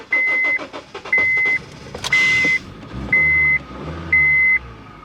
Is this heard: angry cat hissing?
no